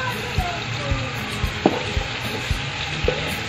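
Peeled, chopped tomatoes cook in a pan with ground ginger and garlic, giving a steady close sizzle broken by several soft knocks and scrapes of stirring at irregular intervals.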